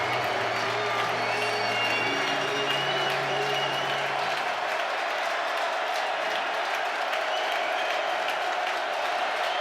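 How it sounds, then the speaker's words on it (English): A college football crowd roars steadily in Scott Stadium during a Louisville versus Virginia ACC game, a dense, loud wall of cheering and applause that holds for the whole stretch. "And now this crowd in Scott Stadium's getting into it."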